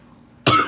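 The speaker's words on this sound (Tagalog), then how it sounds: "So inuubo na naman." A single sharp cough bursts out close and loud after a moment of near silence, a brief rough exhalation with no talking around it.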